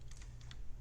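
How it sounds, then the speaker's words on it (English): Code is being typed on a computer keyboard: a brief burst of four or five light, close key clicks in quick succession over a low background hum. "we're going to type this code"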